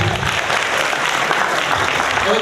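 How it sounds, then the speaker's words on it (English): An audience at an NFT and metaverse event claps loudly and steadily throughout, a dense wash of applause with a faint murmur of the crowd underneath. "please put your hands together for yourself"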